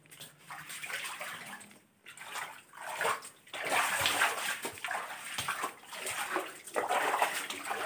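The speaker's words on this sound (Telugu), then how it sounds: "వాటర్ ఫ్లో అవుతున్నాయి ఎక్కడి నుంచి అర్థం కాదు." Water flows and splashes inside a large cave, an uneven rushing and trickling that swells and dips in bursts, with echoing surges and no clear speech.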